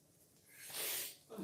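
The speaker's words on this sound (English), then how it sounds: "I'm going to sneeze, I think." A single close, breathy sneeze bursts out after a quiet moment, a short sharp puff of air followed by a faint exhale.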